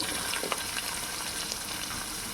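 Sliced onions and garlic sauté in oil with country curry leaves for a chicken curry, a steady close hissing sizzle with a few faint stirring clicks.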